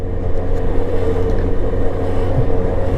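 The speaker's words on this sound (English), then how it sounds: "Traffic is bad, but I'm on a scooter." A Lexmoto Apollo 125 scooter ridden through traffic: a steady, close low engine drone with wind rumble and no talking.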